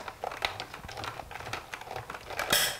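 Card stock being fed through a die cutting machine that cuts and scores at once, giving off a string of quiet, irregular crackles and crinkling snaps, with a louder burst of crackling near the end.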